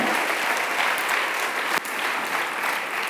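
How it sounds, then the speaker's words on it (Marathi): A church congregation claps in steady, dense applause throughout, loud and close, with no talking over it. "सर्वांबद्दल आपण टाळ्या वाजूया आणि प्रभूला धन्यवाद देऊ"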